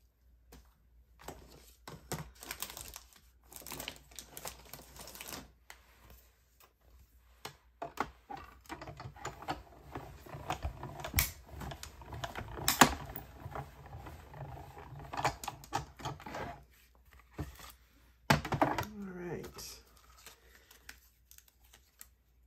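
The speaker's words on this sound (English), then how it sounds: "We will bring in our Stampin' Cut and Emboss machine." A Stampin' Cut and Emboss die cutting machine runs in bursts of clicking, grinding mechanical noise across a craft table, with irregular pauses between passes and a louder stretch near the end.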